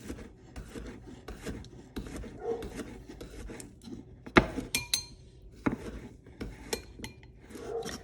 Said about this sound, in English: I'm just gonna slice it into thin little rounds.